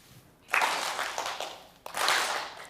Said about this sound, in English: This side will do the whole clap when I raise my left hand